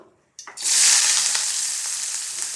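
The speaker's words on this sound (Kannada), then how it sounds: "ಈರುಳ್ಳಿ ಮತ್ತು ಹಸಿರು ಮೆಣಸಿನಕಾಯಿ ಏನು ತೊಗೊಂಡಿದ್ನಲ್ಲ ಅದನ್ನು ಹಾಕಿ ಒಳ್ಳೆ ಫ್ರೈ ಮಾಡೋಣ" Onion and green chilli hit a hot pan with beans, bursting into a loud, sudden sizzle after a brief quiet moment that then holds steady.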